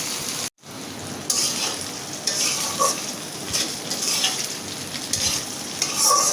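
Kurala fish for a spicy jhal fry is stirred in a frying pan: steady sizzling with repeated scraping and stirring scrapes, after a brief drop to silence near the start, all close and fairly loud.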